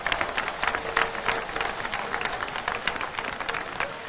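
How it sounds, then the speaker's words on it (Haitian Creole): Audience applause at a political speech about Haiti, a crowd clapping with distinct individual claps audible in an uneven, lively patter, moderately loud and sustained. "on fait une pour applaudir Haïti"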